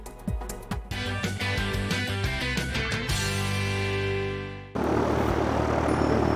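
A Cessna propeller airplane engine starting up with uneven coughing pulses, then settling into a loud, steady droning hum before shifting to a rough, broad roar close by.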